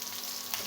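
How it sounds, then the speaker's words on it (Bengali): Boiled, spiced chicken fries in a pan, a brief steady sizzle with a light stir near the end, close and fairly quiet, alone without voices. "এই যে মুরগিটা এখন ভাজছে"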